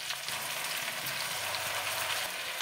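Onion paste fries in hot oil in a pan with a steady, soft, close sizzle that holds evenly throughout.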